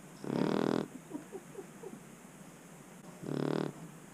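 A resting dog indoors snores loudly and close, two long rasping inhalations separated by a quiet stretch of soft wheezy breathing, with no voices present.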